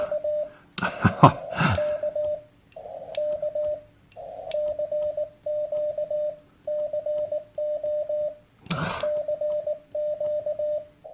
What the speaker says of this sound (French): il y a quelquefois quelques petits problèmes avec le keyer automatique qui fait un peu n'importe quoi